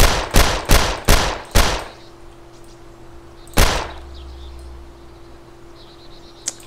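Gunfire in the video game DayZ: a quick burst of four or five loud, sharp shots, a pause, then one more single shot, with a low steady hum underneath.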